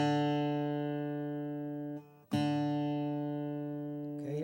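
A steady sustained D reference tone for tuning a guitar's D string, rich in even harmonics, held clear and alone, briefly cut off near the middle and then sounding again at the same pitch.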